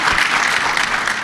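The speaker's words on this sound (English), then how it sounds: "we can definitely clap for that" Audience applause at a lecture, dense and lively clapping from a large crowd, loud and continuous throughout with no voice over it.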